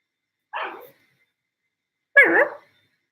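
A person imitates a dog barking, giving two separate woof-like barks about a second and a half apart, the second louder and fuller, with silence around them.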